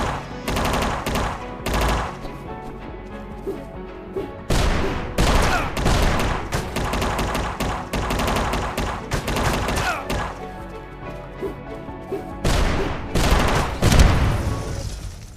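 Bursts of machine gun fire rattle in the video game UnMetal, loud rapid volleys arriving in several separate stretches with brief lulls between them and no talk over them.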